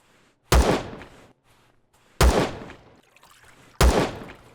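Three single gunshots from a gun in Empyrion, evenly spaced about a second and a half apart, each a loud, sharp crack that decays quickly into near silence, with nothing else heard between them.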